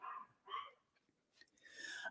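A dog in the room gives a few short barks and whimpers, fairly quiet and close, separated by brief pauses with no talk.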